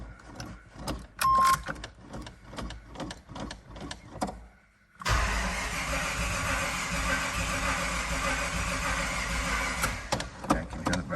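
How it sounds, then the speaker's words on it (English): A 120,000-mile Jeep on a cold start gives a run of dry clicks and taps, then a sudden loud, steady broadband grind of cranking that carries on unbroken to the end. "Let's see if she'll fire up."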